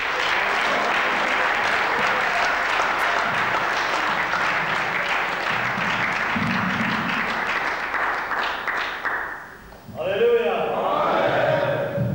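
A church congregation bursts into sustained applause that fills the room for about ten seconds, then fades out as a voice takes over.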